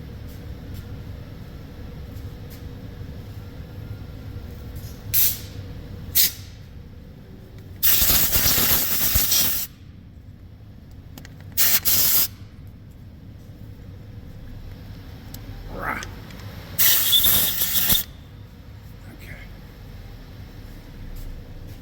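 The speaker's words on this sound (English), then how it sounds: "And then I'm going to spray some WD up there." WD-40 lubricant sprayed onto a stuck sensor seal on a Honda Fit in a repair shop, two loud hissing bursts of about two seconds and one second, with shorter spurts and clicks in between over a quiet background.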